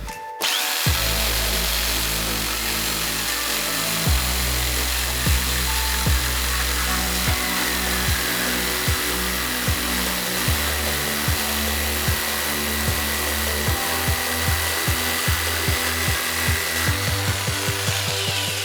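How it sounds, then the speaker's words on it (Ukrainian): A DWT jigsaw makes a straight cut through a wooden board, its motor buzzing loudly and continuously up close with a rhythmic chattering from the blade as it bites through the wood, no talk. "І лобзик ДВТ, прямий різ."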